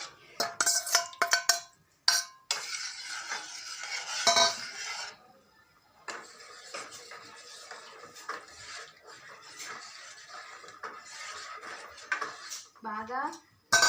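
A spoon stirs ragi malt drink in a metal vessel, with repeated clinks and scrapes, some loud and close, then softer steady swirling; a voice is heard briefly at the end.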